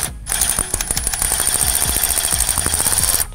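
Battery terminal nut on a Ford Bronco Sport being loosened with a hand tool: a loud, close, rapid rattling clatter of ratcheting clicks that runs steadily for about three seconds, with no talking.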